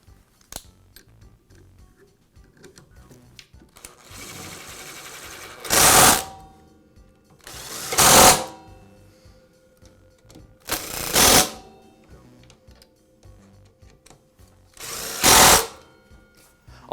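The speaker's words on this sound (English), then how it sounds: "Now I can reinstall the motor housing, secure it with the screws," A power driver runs screws into the motor housing of a DeWALT chop saw, four short separate whirring bursts spaced a couple of seconds apart, close and fairly loud against a quiet workshop background.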